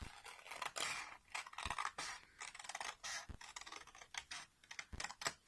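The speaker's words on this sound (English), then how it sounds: "get my scissors back in to there" Scissors snip through paper in a quick run of crisp, close cuts with short pauses between strokes, faint overall and with no talking.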